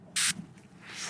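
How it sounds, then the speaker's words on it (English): A perfume spray bottle gives one short, sharp close-up burst of mist, followed by faint rustling. "This sprays a lot."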